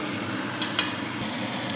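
Curry leaves and coriander spit and sizzle in a hot pan for a mint chutney, a steady close frying hiss broken by two quick sharp crackles.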